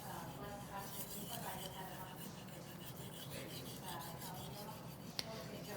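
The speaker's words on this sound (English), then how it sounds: "applying pressure on my edge trailing stroke and relaxing on my edge leading stroke" A knife blade is drawn repeatedly across a sharpening stone, with pressure applied on the edge-trailing stroke, producing soft, even, rasping scrapes in a steady back-and-forth rhythm, one sharp tick standing out near the end.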